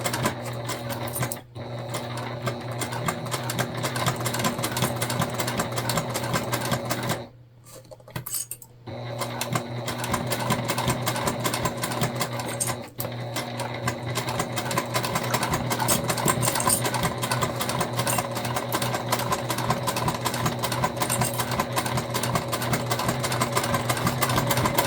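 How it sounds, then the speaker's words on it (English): A sewing machine bastes piping along the edge of a crossbody bag, running in a steady, close whirring stitch for most of the span, broken by two short pauses where the needle stops. "we're just basting this on so our foot is riding right along the edge of the piping"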